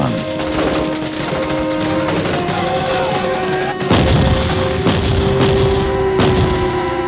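Combat gunfire during an attack on Australian soldiers: rapid, steady machine-gun-like bursts with heavier booming impacts, loud and continuous throughout, with tonal whines layered over it.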